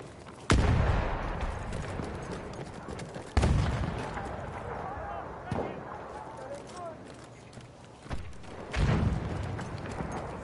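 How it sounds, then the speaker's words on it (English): Battlefield 1 gameplay with a handful of heavy, booming shots spaced a few seconds apart, each trailing into a rumbling decay, with voices faintly present. "Machine gun! One of theirs!"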